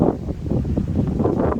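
Strong foehn wind gusts in a storm over the Vercors, buffeting the microphone with loud, low rumbling bursts that swell and ebb in quick succession, with no voices.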